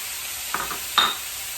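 Chopped carrots and vegetables sizzle steadily in a frying pan on high heat while a utensil stirs them, producing two brief scraping bursts over the constant hiss.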